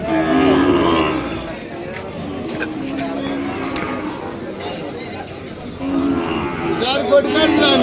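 Ongole cattle moo loudly and repeatedly close by at a cattle market, with voices murmuring in the background.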